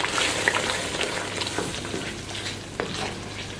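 White cumin and white pepper powder frying in a gravy for Afghani namkeen piyaz gosht, a steady close sizzle with occasional stirring scrapes and light clinks.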